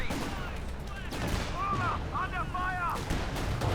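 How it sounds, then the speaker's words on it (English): An artillery barrage in a World War II strategy video game: a dense, continuous rumble of explosions and gunfire, with brief tonal whines rising above the din. "This barrage was trying to hit the Panzer Fusiliers, and missed"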